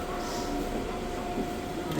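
An Osaka Metro train running, a steady low rumble and hum with a constant tone throughout, close and continuous, with no talk.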